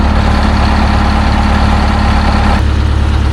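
Detroit Diesel 8V71 two-stroke diesel bus engine idling close by, a loud, steady low rumble with a rapid uneven beat and a slight change in tone near the end, running with a scavenging fault.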